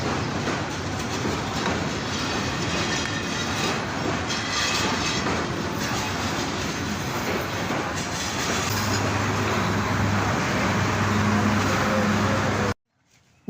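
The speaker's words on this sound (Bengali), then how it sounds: "ট্রেনটি কিন্তু এই মুহূর্তে গতি থামাচ্ছে।" A passenger train slowing to a stop between Mymensingh and Jamalpur gives a loud continuous rumble with wheel clatter and rising brake tones, heard from aboard, before cutting off abruptly.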